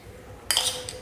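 A spoon tipping salt onto pieces of surmai fish in a bowl, giving a single bright clink against the dish after a moment of quiet.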